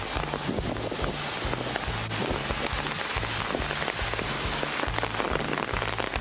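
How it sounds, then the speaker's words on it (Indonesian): Steady rain patters on a surface at a Baltic Sea beach in Juliusruh, Germany, a dense continuous hiss with a low rhythmic thumping beneath it, fairly close and even throughout. "Hujan."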